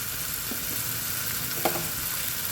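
Ground spices such as turmeric and black pepper sizzle steadily in a hot pan while being stirred for a Kerala chicken dish, a soft continuous frying hiss with a couple of light scraping clicks.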